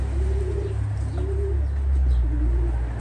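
Racing pigeon, a pearl-eyed inbred bird, cooing in a few soft, wavering low calls over a steady background hum, with faint chirps from other birds.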